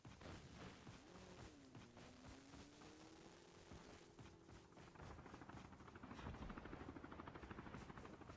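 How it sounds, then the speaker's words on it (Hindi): Helicopter in a video game, a steady pulsing rotor thrum that grows slightly louder toward the end, with a faint tonal whine and no talking. "हेलीकॉप्टर कर रहा है मैं।"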